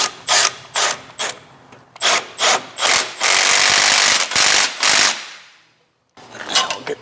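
Clamp on a biturbo AMG GT S aftermarket downpipe being tightened by hand tool, a run of close ratcheting and scraping bursts in irregular rhythm, then a pause and a few more clicks.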